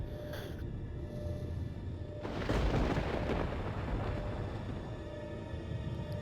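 A cannon fires in KotOR II: a low rumbling ambience, then a loud broadband boom about two seconds in that rolls and fades back into the background hum.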